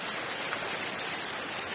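Water flowing steadily in a small creek (sapa) in Bunga, Jabonga, a broadband rushing wash with no talk over it.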